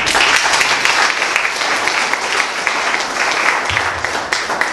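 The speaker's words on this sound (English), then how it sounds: "may a warm round of applause to our host" Warm, steady audience applause fills the room at a Mindoro book launch as the host, president of a foundation, is welcomed. The clapping is dense, loud and continuous throughout, with no talk over it.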